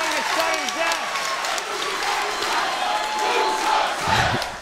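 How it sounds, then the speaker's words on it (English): A crowd chants and cheers at the 2021 World Axe Throwing Championship during a sudden-death round of extra throws, with rhythmic rising and falling voices, applause and shouts filling the space at a fairly loud, steady level. "As you can hear the crowd chanting"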